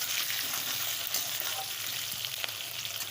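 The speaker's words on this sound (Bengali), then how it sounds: "আর একটু ভেজে নিই।" Salted potatoes frying in a pan, a close, continuous sizzling hiss with occasional small pops and crackles, no voices.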